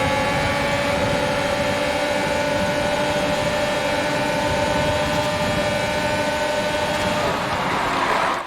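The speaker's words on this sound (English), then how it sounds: "Have a listen to the engine sound" A Formula 1 car engine at Monza in the F1 2020 racing game screams at high revs, a loud continuous whine held steady for several seconds before the pitch shifts briefly at the end.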